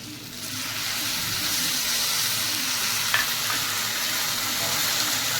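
Potatoes frying in a pan with spice paste and turmeric for a Bengali katla fish-head dish, giving a steady, close, even sizzle with faint stirring scrapes and one brief clink, no talk.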